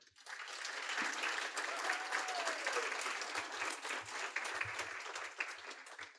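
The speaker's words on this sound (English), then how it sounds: "So if we can have a moment to celebrate that and applaud that" An audience at an awards celebration applauds warmly, a sustained close wash of many clapping hands that swells quickly and carries on steadily for several seconds.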